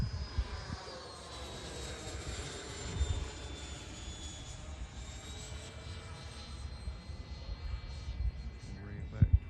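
A Freewing F-5 80mm high-performance RC jet flies overhead, its ducted-fan whine rising and sweeping in pitch as it loops up and back down, steady and fairly loud, with outdoor wind noise.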